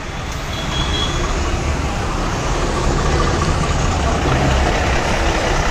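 Dense roadway rumble of a traffic jam heard from inside an APSRTC bus travelling from Tenali to Vijayawada, with engines idling and churning steadily and loudly throughout, no clear voices on top.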